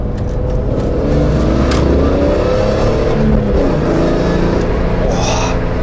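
A car engine revs and accelerates loudly and steadily, its pitch climbing over several seconds, close by.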